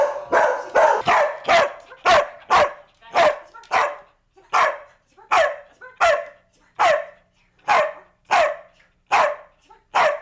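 A puppy barks on command in a series of short, sharp yips and barks, about twenty, spaced in an uneven rhythm with brief gaps, close and clear.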